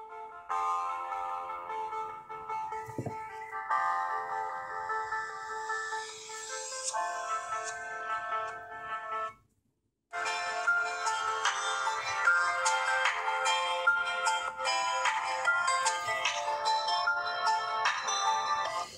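Music plays through a small phone loudspeaker (Leagoo T1) with bright tones, cutting out briefly for about a second midway before resuming steadily.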